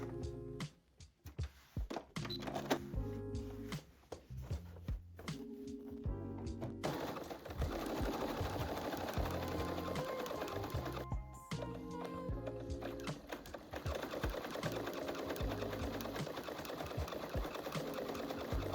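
Sewing machine stitching fabric for a top: rapid mechanical clatter in short bursts at first, then long continuous runs of fast, steady stitching, close and loud.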